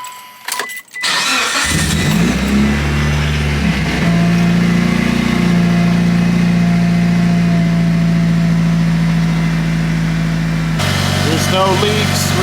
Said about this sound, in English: Time to build some oil pressure, start it up, let it run for like 60 seconds.